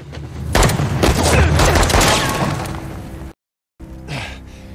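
A burst of gunfire with a boom in the action game Uncharted: The Lost Legacy, a loud, dense volley of shots lasting a few seconds, then a brief silence and a fainter sound with a gasp.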